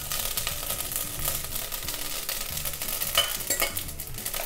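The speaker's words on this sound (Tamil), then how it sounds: "அப்படியே திருப்பி விடுவோம், லைட்டாக அந்த எண்ணெயில் பொரியட்டும்" Mustard seeds and fenugreek frying in hot oil for tomato fenugreek rasam give a continuous close sizzle with light crackles and occasional utensil scrapes as they are stirred, with no voices.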